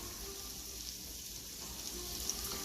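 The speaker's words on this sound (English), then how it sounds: "we're gonna use the chicken broth instead of water, and then I can add some more water" Chicken broth pours steadily into a cooking pot for red beans, a continuous liquid rush and splash with no break, close and fairly loud.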